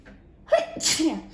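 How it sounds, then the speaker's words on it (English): A quick intake of breath, then a loud, close sneeze bursting out with a brief voiced tail. "my sneezing is the only reason"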